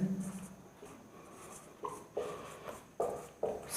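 Chalk or marker writing on a board in a maths class, a few short scratchy strokes and taps in quick succession, quiet and close with no talking.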